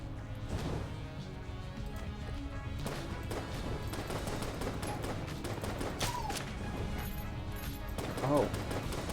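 Sniper bullets firing in Enter the Gungeon, sharp repeated shot cracks and impacts scattered through busy game effects, heard under steady talking.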